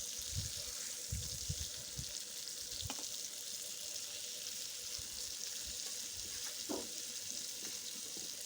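Fish frying in hot oil in a village kitchen, a faint steady sizzle with a few soft clatters and bumps.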